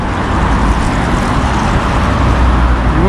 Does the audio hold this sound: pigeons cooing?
no